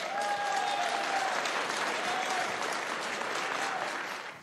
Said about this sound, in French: Emmanuel Macron applaudi par ses ouvriers quand il parle de remettre le travail au centre